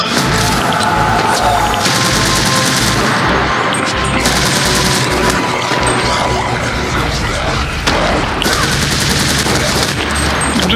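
Rapid gunfire in a multiplayer video game: dense, loud, nearly continuous volleys of shots with crashing bursts mixed in, running throughout.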